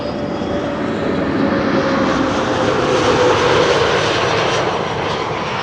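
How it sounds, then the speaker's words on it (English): A KM Malta airliner on flight 394 from Malta arriving at Amsterdam Schiphol Airport, a loud, steady jet engine roar that swells slightly as it passes, with no voices. "KM Malta arriving from Malta, flight 394"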